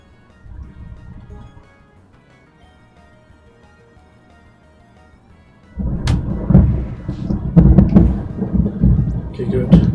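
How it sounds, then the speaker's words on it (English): Loud, rumbling thunder from a video game storm bursts in after several seconds of soft, quiet game music, then keeps crashing and rolling heavily to the end. "Can y'all hear that thunder? It's intense."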